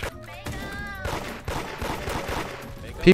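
Gunfire in the Roblox game Da Hood, a burst of rapid shots with sharp clipped pops and a louder crack at the end, mixed with game effects and a short tonal sound.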